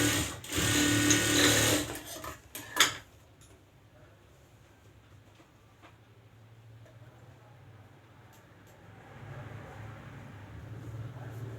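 A sewing machine stitches a strip onto the back of a boat-neck blouse, whirring loudly in a fast run for about two seconds before a short clunk. Faint handling noise and low background hum follow.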